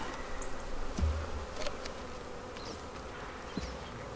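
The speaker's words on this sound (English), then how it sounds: "So we know we have bees in here." Honey bees in an opened beehive, a soft steady buzzing drone close by, with faint handling knocks from the hive.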